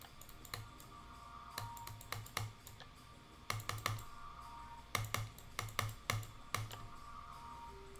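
Rapid computer clicking during a game stream, bursts of sharp, close taps in quick clusters separated by brief pauses, with no talking heard.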